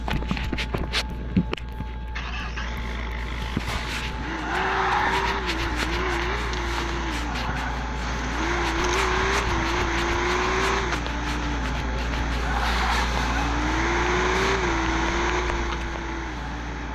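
A Bugatti driven in a car simulator video game, its engine drone rising and falling in long gear-like sweeps over a steady background hum, with occasional tire squeal, moderately loud and with no talking.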